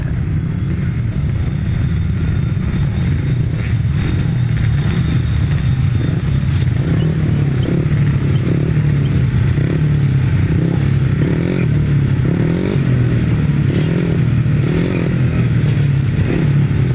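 A heat of 250cc grasstrack racing motorcycles gets away from the tapes at a championship meeting. A dense, continuous roar of engines carries on without a break, mixed with heavy wind buffeting on the microphone.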